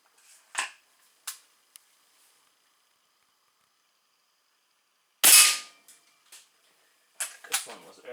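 A Weihrauch HW 80 .22 air rifle fires a single sharp, loud shot partway through, with smaller clicks and handling knocks before and after in otherwise quiet surroundings.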